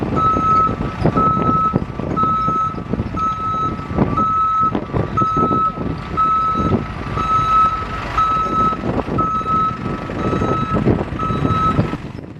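A truck slowly following street protesters, its reversing alarm beeping in a steady regular series over a loud rumbling engine, close by and without talk.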